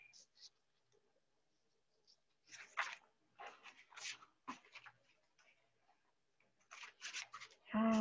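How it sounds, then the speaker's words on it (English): Scissors snip through washi tape in a quiet room, a series of short crisp cuts and rustles clustered in bursts, close and fairly soft, with brief talking at the very end. "you just get your scissor and then you can just cut the rest of those washies"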